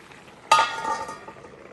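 Shrimp roast cooking in a covered pan as it reduces gives a sudden burst of sizzle, then a softer frying hiss that fades, with no voices.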